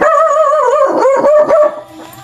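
A dog being carried by an older woman barks and yips in a quick run of whining, high-pitched barks, close and loud, trailing off at the end.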